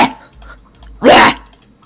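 A single short bark from Bob the dog in Minecraft, one loud burst in the middle of the clip with quiet game ambience before and after.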